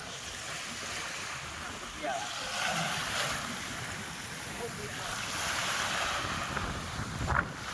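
Open sea waves wash and wind buffets steadily aboard a boat near Bet Dwarka, with the wind rumbling into the microphone and faint voices in the background.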